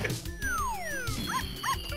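Playful dog yips and whimpers from a player character turned into a puppy during an alien-themed fighting game match, several short bright yelps over a busy backdrop of game music and effects.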